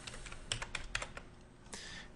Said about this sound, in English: So just start typing some random values.